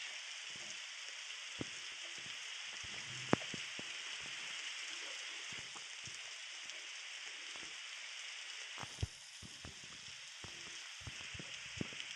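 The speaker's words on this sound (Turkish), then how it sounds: "Yağmur" Steady, hissing video-game rainfall in Roblox patters continuously with occasional louder drops and clicks, a dense synthetic-sounding shower with no talking.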